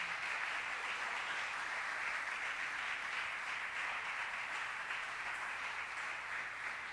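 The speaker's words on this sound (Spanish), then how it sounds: "Denle un aplauso al Espíritu Santo de Dios" Sustained applause from a church congregation at a sermon, a steady dense wash of clapping that holds evenly throughout without any talk over it.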